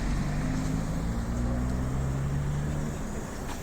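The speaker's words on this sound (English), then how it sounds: "Nice bus there. Electric bus." An electric bus passes along a city street, a steady low hum with a faint tonal whine under broad traffic and wind noise, fairly close and even in level throughout.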